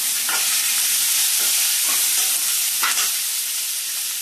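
Chopped onions fry with garlic in a pan for an onion chutney, giving a loud, steady sizzle broken by a few scraping stirs of the spoon, with nobody talking.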